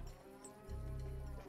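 A cow in the Desperados 3 video game lets out a single low, drawn-out moo that starts partway through and holds steady, close and alone without speech.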